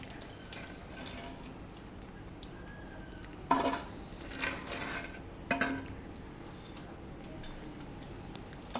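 Sweet mango pickle being stirred and mixed in a pot gives a few distinct clinks and scrapes of a utensil against metal, separated by quiet pauses. No one speaks.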